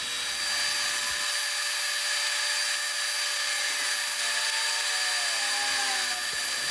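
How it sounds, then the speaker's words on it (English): A Laguna 18BX bandsaw rips rough maple boards to width with a loud, continuous motor hum and blade whine. Lower cutting noise swells in the middle and eases off near the end. "I'm just taking these rough maple boards and ripping them to their rough width"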